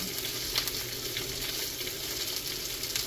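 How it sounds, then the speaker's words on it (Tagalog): Fish frying in a pan alongside bitter gourd and mushrooms, giving a steady, dense sizzle with faint crackles and no voices over it. "At meron din po tayong fish. Nagpiprito tayo."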